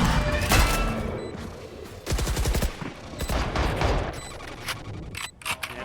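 Rapid gunfire bursts from a VALORANT esports match, loud clustered shots with sharp repeated cracks and brief pauses, close and dense throughout.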